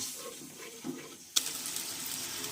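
Water is poured into a frying spice paste in a pan while cooking, with a quiet stir before a sudden, hissing splash and sizzle that carries on steadily.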